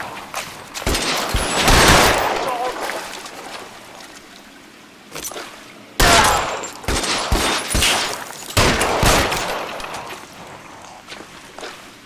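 Gunfire in the video game L.A. Noire: loud bursts of rapid shots in two clusters, with a lull between them and a renewed barrage after it. Some shots ring close and some sound more distant, and no voices are heard.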